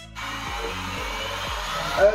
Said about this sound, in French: Je verse mon jus de pois chiche et j'allume le robot.